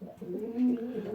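Frill stencil pigeons in an allotment loft give a soft, close, low coo lasting about a second, with no talking over it.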